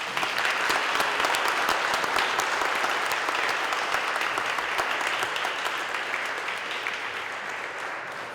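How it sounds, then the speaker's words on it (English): Sustained, steady applause from a large audience at a college commencement ceremony, with dense clapping that stays full and even throughout, alone without speech. "Let's give them a big round of applause."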